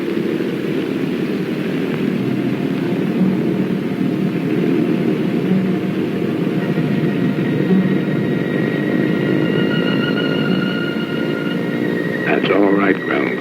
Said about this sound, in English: you hear them winding up those engines.